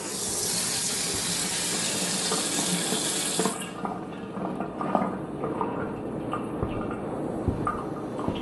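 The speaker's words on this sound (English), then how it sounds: "The faucet turned on by itself and I hear noises." Kitchen faucet running on its own, a steady loud rush of water that sharpens and then drops to a softer splashing flow with small clinks and knocks, heard alone without any voices.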